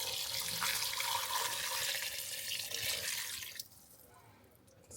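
Gravy poured over neck tail stew in a pot, a steady wet pouring and splashing stream that runs for several seconds and then cuts off abruptly, leaving quiet.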